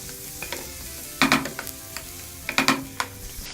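Thinly cut chicken for an Andhra-style betel leaf chicken fry is stirred in a hot pan, with bursts of close spatula scraping and clatter over a steady sizzle.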